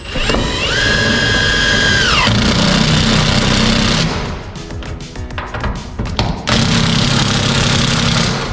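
A power drill drives screws into a horizontal overhead garage door track, heard up close from scaffolding. Two loud sustained whirring bursts bracket a stretch of clattering taps and handling noise.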